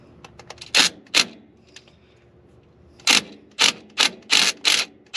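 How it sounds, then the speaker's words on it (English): A half-inch drive impact wrench on a quarter-inch socket fires in short, sharp rattling bursts, two early, then a quick run of five or six after a pause, loud and close. "Half-inch drive impact on a 1/4 inch socket."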